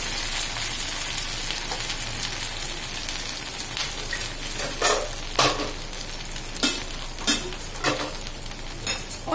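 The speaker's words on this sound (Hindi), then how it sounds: "एक ताजा सा प्यारा सा कुलचा जो कि हो रहा है फ्राई ऑमलेट के साथ" A cheese omelette with cottage cheese sizzles in a pan alongside a kulcha, a dense, steady fry crackle with occasional louder spatters and scrapes, close and continuous with no voices.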